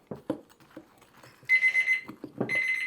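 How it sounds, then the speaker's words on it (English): A kitchen timer goes off while sourdough Earl Grey bread is being baked, sounding two bursts of rapid, bright electronic beeping. A few soft thumps and clatter come first, and the second burst carries on to the end. "And there's our timer."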